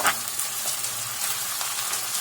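Chopped onion and two minced garlic cloves fry in a pan for Egyptian koshari, giving a steady, close, broadband sizzle with no voices.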